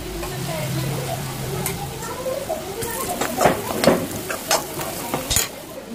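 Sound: onion with turmeric and spices sizzling while frying in pan

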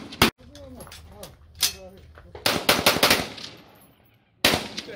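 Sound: AK rifle firing at the range

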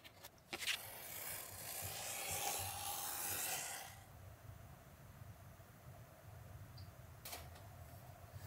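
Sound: cutting Goyard canvas fabric along a pattern

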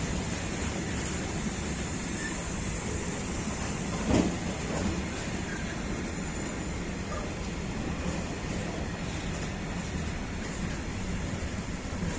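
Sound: train passing on track

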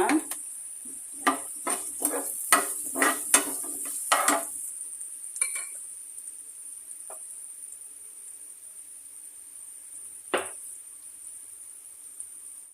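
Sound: stirring frying onions with sugar, turmeric and salt

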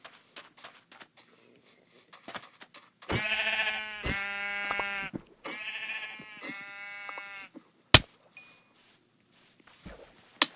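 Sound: sheep bleating in the video game Minecraft

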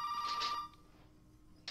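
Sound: telephone ringing in the video game Resident Evil VII

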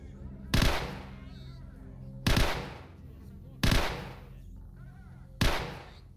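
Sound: gunfire in a video game

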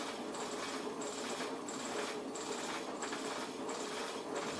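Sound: motor of SSG free energy bike running under load

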